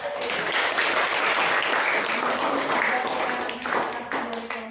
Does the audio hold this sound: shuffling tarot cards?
no